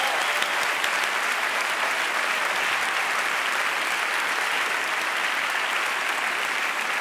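Dense, steady audience applause fills a hall at the Swiss Comedy Awards, loud and continuous from start to finish with no break or talk above it.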